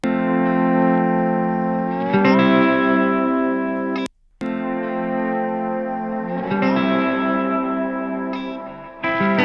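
Sustained, heavily reverberant electric guitar chords ringing out with a washy echo tail, briefly cutting to silence midway before resuming.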